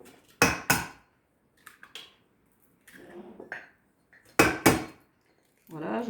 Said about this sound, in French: je casse les œufs.